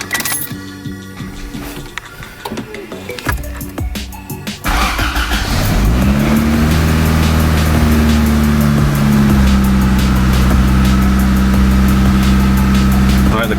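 After clunks and rattles, a car engine fitted with a freshly swapped D-series transmission cranks, catches and settles into a steady, loud idle with a low hum that holds for several seconds.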